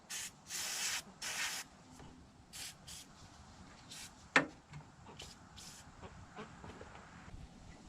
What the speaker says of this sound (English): We'll hit this with a little PB blast